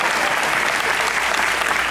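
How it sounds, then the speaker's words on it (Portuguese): An audience applauds a bass player at a live rehearsal-style show with a band, a dense, steady wash of clapping that stays loud and close throughout the short burst. "Salva de palmas, por favor."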